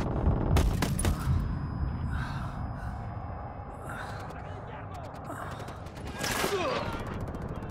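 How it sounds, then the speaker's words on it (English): Gunfire erupts from inside a hacienda in Ghost Recon Wildlands: a dense burst of shots near the start and another rattle near the end, set against a steady noisy backdrop. "Taking fire from inside the hacienda."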